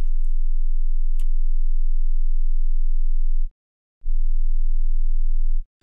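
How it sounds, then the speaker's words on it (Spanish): A steady 20 hertz sine test tone hums low and loud, briefly preceded by faint noise, then cuts out for about half a second before resuming until the end. "Vamos a ver esos 20 hercios que se supone que, se escuchan también."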